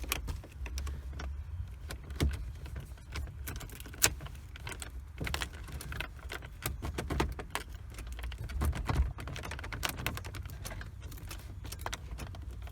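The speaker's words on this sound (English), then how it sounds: "we should definitely try all the keys to start it" Car keys jangle and rattle repeatedly up close while someone tries several keys to start a Lincoln Mark VIII, a steady series of small metallic clicks and clinks with no talking.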